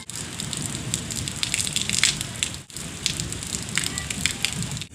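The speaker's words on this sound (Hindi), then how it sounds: "जिस तरह से बारिश कम होती जा रही है वैसे वैसे पानी भी कम होता जा रहा है" Steady, dense rain pattering on a surface, a continuous wash of drops with a brief dip midway, no voices.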